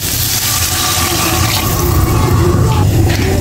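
Water poured into a cooking pot, a loud continuous gushing splash with a low rumbling fill, close up and steady throughout.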